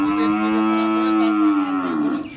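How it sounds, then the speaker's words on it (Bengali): A single long, loud moo from a Jersey cow, close by, holding a steady low pitch for about two seconds before trailing off. "কি জাতের গরু এটা এটা একটা জার্সি গরু"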